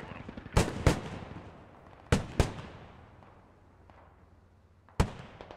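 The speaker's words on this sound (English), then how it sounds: "The Lav 6 finally getting rounds on the BMP." A LAV 6 in the video game Squad fires rounds at a BMP: sharp, loud cannon shots, mostly in quick pairs, with echoing decay between bursts and a final single shot.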